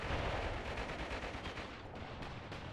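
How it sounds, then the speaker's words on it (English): Artillery bombardment in the WWII strategy game Mius Front: a dense, continuous roar of booming blasts and rumbling impacts, loud and sustained, with no clear gaps between shots. "Or just keep getting bombarded by artillery."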